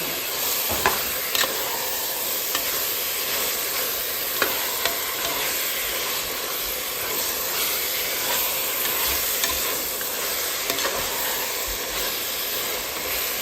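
Mutton bones sautéing in a pan with ginger, garlic, chili and cumin give a loud, continuous sizzle and hiss that stays steady throughout, with no talking.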